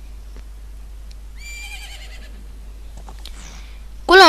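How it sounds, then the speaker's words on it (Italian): A horse neighs in the video game Zelda: Majora's Mask, a clear whinny midway with a second loud burst at the end, over quiet background. "Quello non è il tuo cavallo."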